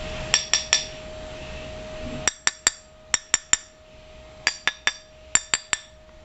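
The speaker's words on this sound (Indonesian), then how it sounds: "Kalau aku pukul komponennya pakai ini ya, pakai penggaris besi." A Yamaha Mio pulley component is struck with a steel ruler, giving a series of sharp metallic clinks in small clusters of three to four, each with a brief ringing tail, close and clear with no talk.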